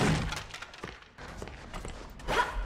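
Banging and thumping from the dark ink-filled halls of Bendy and the Dark Revival, a few dull knocks and thuds sounding from another room amid ambient game noise, with no talking.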